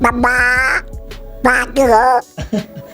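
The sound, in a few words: voice imitating a duck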